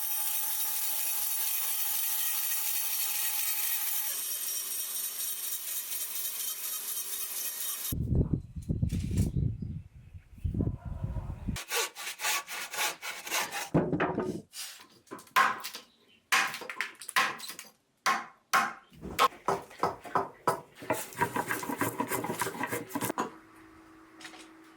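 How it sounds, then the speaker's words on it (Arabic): Wooden decorative pieces for a house facade are worked by hand, with a long steady rasping scrape, then bursts of low scraping and many short repeated strokes of cutting or filing up close. "ودلوقتي هسيبكم مع نحت كام قطعة فنية لتزيين واجهة البيت"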